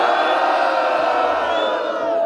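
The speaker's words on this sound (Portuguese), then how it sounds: "Faz barulho quem gostou das rimas do Cafezito." A crowd at a street rap battle cheers and whoops loudly in a continuous roar of yells and shouts for the whole moment.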